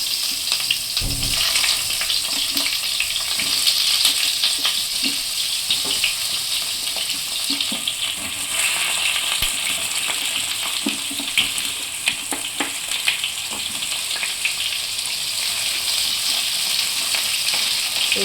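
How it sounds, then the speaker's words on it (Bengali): Eggplant slices sizzle steadily in hot oil in a pan while a Bengali shukto is being made, a close, continuous frying hiss with occasional scraping stirs and brief clinks, and no talk. "বেগুনটা যেটা ছিল সেটা বেগুনটা ভেজে নিচ্ছি"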